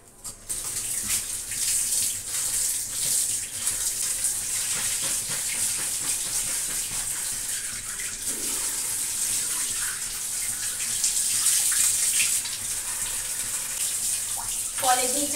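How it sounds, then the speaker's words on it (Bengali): Gourd stalks are washed under a running kitchen tap, a steady, close rush of splashing water that goes on for the whole stretch, with small bumps and clatters of handling and occasional soft talk underneath. "কলের নিচে ভালো করে না ধুয়ে দিলে না ভালো লাগে না।"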